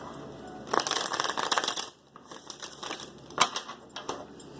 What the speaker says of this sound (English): I want to take a couple more word cards.